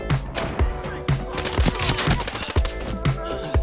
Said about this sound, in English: Beginning near Grain Trade Center, the crackling echoes of gunfire were heard.